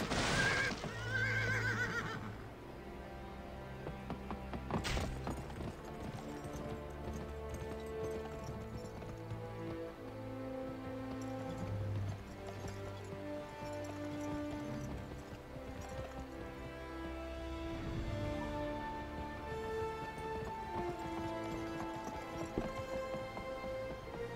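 Steady clip-clop of horse hooves runs throughout, with a sharp whinny near the start and a synthetic ambience and music underneath, from the video game Gun.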